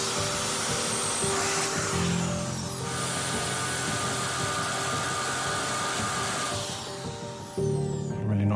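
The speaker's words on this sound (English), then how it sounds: "I'm just gonna drill these holes." A power drill bores holes into a large 19th-century stone Warwick vase. It gives a steady, close whine that dips briefly near the end and then resumes, with no talking.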